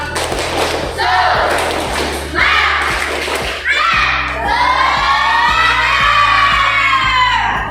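A classroom of children chanting and shouting in rhythm during a spirited clapping chant, with steady, repeated clapping beats underneath, loud and lively, ending in a sustained cheer.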